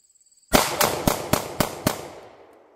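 A handgun fires six sharp, loud shots in quick, fairly even succession into a bucket on a shooting range, each crack ringing out briefly after a quiet start.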